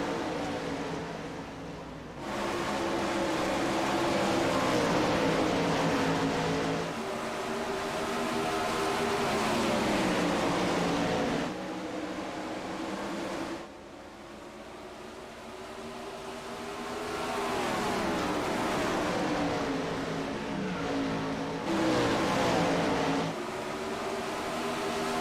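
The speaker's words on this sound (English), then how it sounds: "Green flag is out. 410 sprint cars for race number 3." Racing video game with 410 sprint cars at Williams Grove Speedway: loud, droning engine roars rise and fall in pitch across several long passes, broken by brief dips between them, with no voices.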